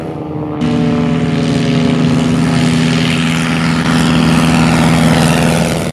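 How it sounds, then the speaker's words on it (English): A propeller plane engine in a stop-motion film about the Tuskegee Airmen roars loudly and steadily, kicking in after a brief moment and droning on with a deep, constant hum. "the sound of a roaring plane engine"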